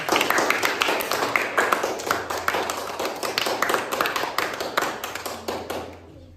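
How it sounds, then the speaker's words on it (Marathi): A classroom group claps for a girl who solved a five-squares puzzle, a burst of dense rhythmic hand claps that gradually thins out and stops. "गीतासाठी टाळ्या वाजा एकदा"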